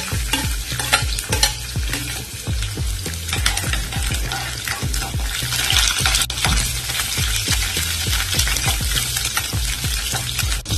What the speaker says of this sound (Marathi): आता सर्वात आधी आपण त्याच्यात जिरं टाकू। जिरं तर जळले की त्याच्यात आपल्याला लसूण टाकायचे।